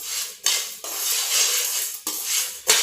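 Chana, urad and toor dal dry roasting in a heated pan, heard as a soft rustling hiss broken by several sharp metallic scrapes and clinks of a spoon against the vessel, close and without speech.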